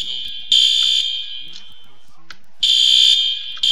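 Fire alarm in a Roblox video game, a loud high electronic tone blaring in long on-off bursts with quieter stretches between, while a voice talks faintly underneath.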